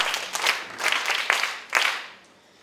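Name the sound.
children clapping for themselves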